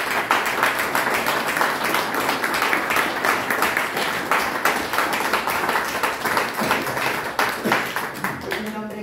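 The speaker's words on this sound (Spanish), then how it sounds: "yo pido una interrupción para poder aplaudir a Tomás." Applause from a conference audience at a Templar-themed congress, a rapid patter of many hands clapping nearby with uneven swells, heard alongside bits of talk.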